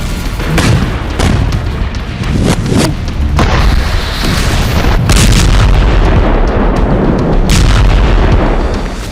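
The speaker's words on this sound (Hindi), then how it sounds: "आईडीएफ वेस्ट बैंक के तमाम इलाकों पर गोला बारूद बरसा रही है, प्रचंड प्रहार कर रही है।" Heavy artillery shelling and explosions across the West Bank: loud, dense booms and blasts in rapid succession, with repeated sharp impacts over a continuous rumbling roar.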